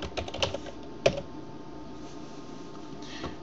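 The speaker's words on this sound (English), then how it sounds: "we're going to type in Microsoft Bit" Computer keyboard typing into a web browser on a Windows PC, a few quick clustered keystrokes near the start and one sharper key press, then near silence with faint room hum.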